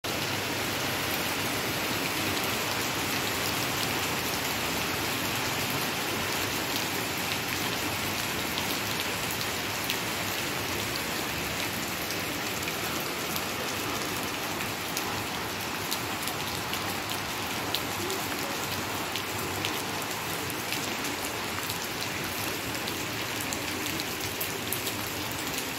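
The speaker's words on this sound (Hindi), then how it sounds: "और बाहर का मौसम देखो, बारिश हो रही है।" Steady rain pours down outdoors in Himachal, a dense even hiss of drops on surfaces that runs unbroken and moderately loud with no voices.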